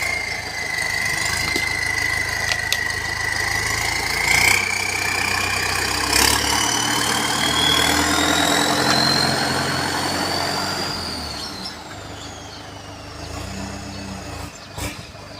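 A vehicle engine runs steadily as it is driven out, a close, rumbling drone with a whine that climbs slowly in pitch, scattered knocks and clunks, then the sound eases off slightly toward the end.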